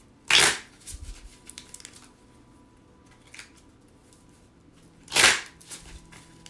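A deck of wisdom cards shuffled up close in two sharp riffling bursts several seconds apart, with quieter card handling and shuffling in between.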